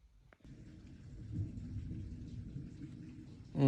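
Steady rain falls on a rainy day, a soft continuous patter and low rumble close by that swells slightly near the end.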